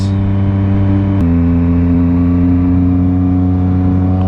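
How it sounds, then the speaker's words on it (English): A motorcycle fitted with an SW-MOTECH windscreen pulls away under throttle, its engine a loud, steady drone that shifts pitch once early on, then holds a constant note while riding. "Get some gas and just ride around, test the windscreen, come back."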